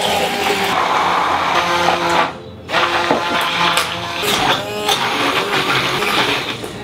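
A kitchen blender whirs steadily while blending oil into a sauce for chicken burgers, the motor briefly dipping in pitch midway before resuming its loud, continuous churn.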